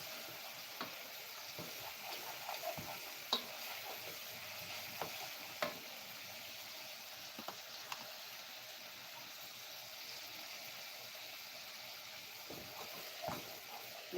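Steady crackling sizzle of food frying in oil, with occasional soft clicks and scrapes of stirring, no voices.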